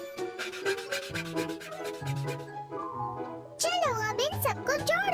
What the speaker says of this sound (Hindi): लकड़ी काटने की आरी बन जाओ।